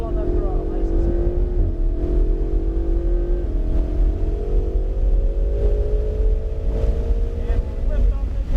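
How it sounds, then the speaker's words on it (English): A Ferrari 488 GTB engine rises steadily in pitch as the throttle is rolled on smoothly, a loud close drone mixed with wind roar and occasional voice. "we'll roll on that throttle nice and smooth"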